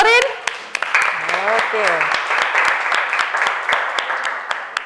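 A class claps for a student during a physics lesson on Torricelli's theorem. The steady applause patters throughout, with a voice speaking briefly over it.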